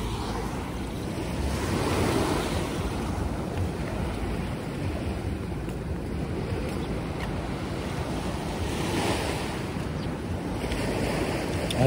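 Sea waves roll onto the shore at a beach in Baganga, Davao Oriental, a steady loud surge with swells rising and falling, mixed with gusty wind buffeting the microphone and no voices.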